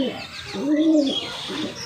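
A single close pigeon coo, a short throaty rolling call, with faint chirps around it.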